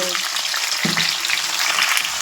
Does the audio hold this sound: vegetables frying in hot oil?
yes